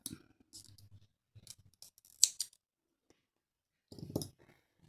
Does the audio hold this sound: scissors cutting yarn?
yes